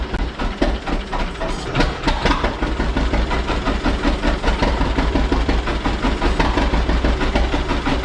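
A John Deere G tractor engine idles loud and close, a steady heavy rumbling chug with a rapid mechanical clatter that never lets up.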